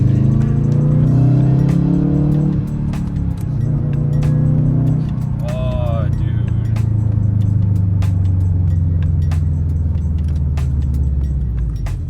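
A Subaru WRX pulls in third gear with steady engine drone that climbs in pitch and then holds, close and moderately loud, with brief interior rattles and clicks over the top.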